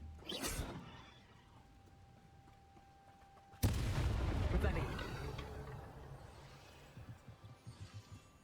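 Confringo fire spell blasting in the video game Hogwarts Legacy, with one sharp deep explosive boom in the middle that decays into a rumbling tail. Shorter crackling hits come earlier and later, and a voice speaks over the game sounds.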